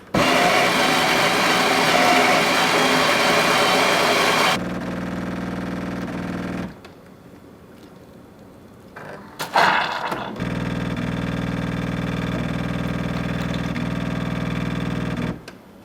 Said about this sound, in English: To espresso, simply press the espresso button twice.